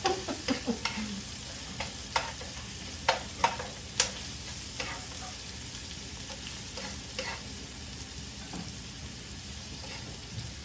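Pakbet with coconut milk simmers and sizzles softly in a pan, with a spoon tapping and scraping in scattered knocks over the steady frying hiss.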